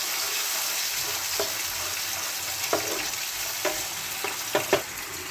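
Tomato sautés in a pan for a peas omelet curry: a continuous close sizzle with a handful of sharp spatula scrapes and taps scattered through the second half.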